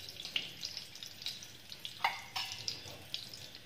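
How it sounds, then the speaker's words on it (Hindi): Cumin seeds and curry leaves sizzling in a spoonful of hot oil, a light crackling fry with scattered sharp pops and spits, close and fairly quiet. "इसमें डाला मैंने जीरा और कड़ी पत्ता एक चम्मच तेल में डाला"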